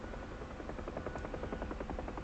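Helicopter in flight in the DCS combat flight simulator: a steady whine and engine drone with a rapid rhythmic rotor chop pulsing throughout, continuous and even, with no speech.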